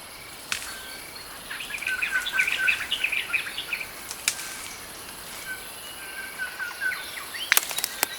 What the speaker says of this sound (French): avec des oiseaux, certains sont exotiques